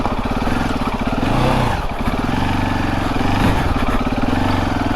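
A KTM 690 Enduro R single-cylinder motorcycle labors over rough ground, its engine note loud and close with steady pulsing thump and small revving swells as it pushes on.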